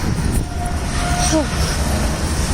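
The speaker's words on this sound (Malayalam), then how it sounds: "അടുത്ത ട്രാക്കിൽ കൂടെ അടുത്ത വണ്ടി പോകുന്നു" A train runs along the adjacent track, a loud continuous rumble of wheels and carriages close by with a brief high squeal rising over it.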